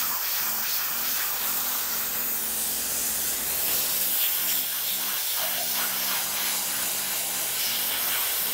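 Water spraying from a hose to rinse a horse's tail during washing, a steady loud hiss that runs continuously without break, close to the listener, with no talk.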